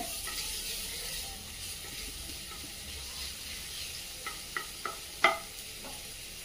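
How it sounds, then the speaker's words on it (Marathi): Crushed garlic frying in a small amount of oil in a pan, a faint steady sizzle with a few soft clicks and taps of stirring near the end. "आता मी त्यामध्ये हा ठेचून घेतलेला लसूण टाकत आहे। लसूण चांगला फ्राय होऊ देऊया"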